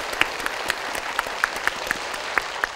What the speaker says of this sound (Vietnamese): bây giờ là lúc chúng ta sẽ có một tràng vỗ tay thật lớn